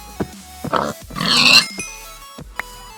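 Pig grunts and oinks from the Minecraft video game, several short snorts followed by a longer squealing grunt, loud and close with brief gaps between calls.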